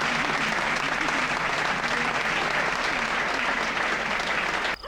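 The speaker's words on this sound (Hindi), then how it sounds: "तारीफ के भाई तालियां" A crowd claps steadily and densely, with a voice faintly present beneath the applause before it cuts off abruptly at the end.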